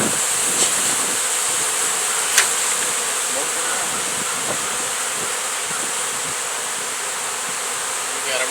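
A swarm of killer honey bees nesting in a truck tire makes a dense, steady, close buzzing drone that runs throughout, with a few faint knocks.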